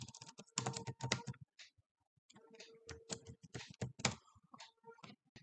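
A password is typed on a computer keyboard in two quick bursts of close, crisp key clicks separated by a short pause.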